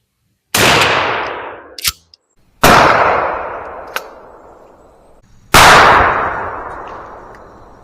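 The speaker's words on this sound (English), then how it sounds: "We're going to shoot at 50 yards here at a 12-inch circle and see how many of these 9 pellets we get in this 12-inch circle." Shotgun firing Winchester military grade #00 buckshot, nine-pellet loads at a target 50 yards away: three loud sharp blasts spaced a couple of seconds apart, each with a decaying outdoor echo and small clacks of action handling between shots.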